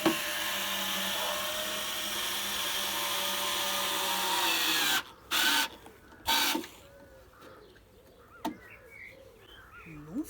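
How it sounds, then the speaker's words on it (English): A power drill drives screws into re-glued wooden furniture, a sustained close whirring through the first half, then several short bursts separated by pauses. "We've re-glued, and we're just going to put in some screws as well"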